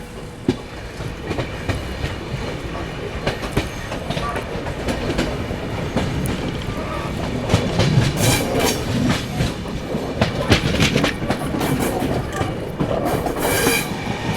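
The Chennai Duronto Express passenger train rolls steadily along the rails with rhythmic clickety-clack and rumbling, a continuous loud mechanical din throughout, occasional brighter metallic clatter.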